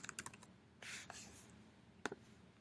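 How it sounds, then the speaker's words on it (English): Computer keyboard keys clicking as a domain name is typed, quick close taps in short bursts with pauses between, fairly faint overall. "so I'm going to type it in here"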